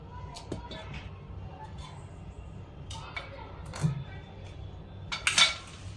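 A knife cuts through a bottle gourd in a kitchen. Sparse, faint clicks and taps sound against a board or dish, with a sharper clink near the end over a low background hum.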